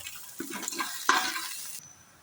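Garlic and then onion sautéing in a hot pan for beetroot kootu, a steady sizzle with stirring scrapes that swells briefly near the middle before fading to quiet.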